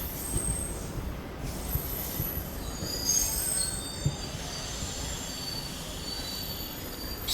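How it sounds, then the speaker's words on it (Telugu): A hydrogen train squeals steadily from its wheels during a braking test on the line, a high, sustained metallic screech over low rumbling, with no one talking. "ట్రైన్ అయితే మొత్తం బాగా బ్రేకింగ్ టెస్ట్ అయితే చేస్తున్నారు"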